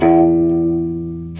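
Electric guitar with a clean Fender Deluxe Reverb tone played through a Gamechanger Audio Plasma distortion pedal, one loud sustained buzzing chord that slowly decays, with a fresh pick attack at the very end.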